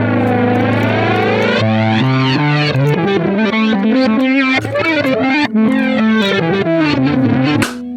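A Jazzmaster electric guitar played through an iSet analog flanger pedal, loud and up close, with sweeping jet-like swirls over sustained chords and melodic runs, ending in a sharp cutoff.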